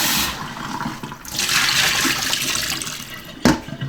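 Blanched pig trotters rinsed under running water, a steady close hiss of flowing water that surges midway and ends with a brief clunk, with no talk.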